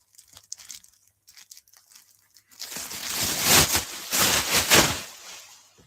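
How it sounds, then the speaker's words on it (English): A bag is rustled and crinkled close up for a few seconds in dense, crackly bursts, after a near-silent opening with faint scattered noises. "Rustling some form of bag."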